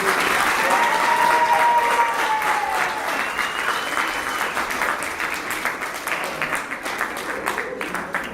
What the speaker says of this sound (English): Would you guys give a round of applause for our volunteers?